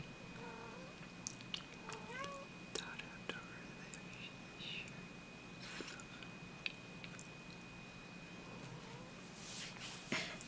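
A pet cat gives a few faint, short meows and mews in a quiet room, mixed with soft whispering voices.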